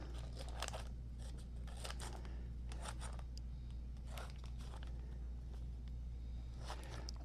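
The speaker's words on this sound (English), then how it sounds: "we're going to cut up some butter and put across the top" Butter being sliced with a knife for a home fried chicken dish, a series of quiet, crisp cutting taps and scrapes spread through the clip over a steady low background hum.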